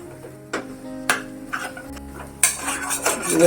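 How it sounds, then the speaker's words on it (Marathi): A spoon scrapes and clinks against a pan while watli dal, ground soaked lentils, is stirred dry over low heat, giving sparse, close metallic taps and scrapes with quiet pauses between them. "आता ही कोरडी करत राहायची सारखी हलवायची आणि कोरडी करायची"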